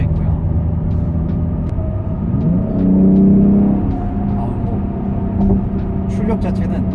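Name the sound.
BMW X3 M exhaust and engine accelerating in M2 mode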